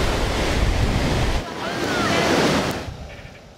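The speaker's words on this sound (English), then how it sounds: "Here, you're confronted by a mass of water falling" Roaring waterfalls at Devil's Throat, Iguazu Falls, a loud continuous broadband rush of falling water mixed with wind buffeting the microphone, swelling and fading slightly over a few seconds.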